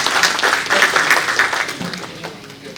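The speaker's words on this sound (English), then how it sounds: "Big round of applause." Audience applause at the Kerala Leadership Awards 2024 ceremony, a steady wash of many hands clapping that fades slightly toward the end, with faint voices underneath.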